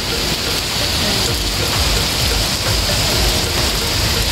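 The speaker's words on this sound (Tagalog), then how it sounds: "Ang ulan, ang ulan, ang ulan." Heavy rain pours down in a dense, steady roar, loud and close, with no break for the whole stretch.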